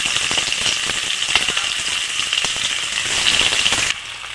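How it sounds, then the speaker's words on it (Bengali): Chopped onions hit hot oil already tempered with crushed cardamom, cumin, dried chili and bay leaf for dum aloo, giving a loud, steady, close sizzle that cuts off sharply near the end. "আগে থেকে কাটা পেঁয়াজটা দিয়ে দেবো।"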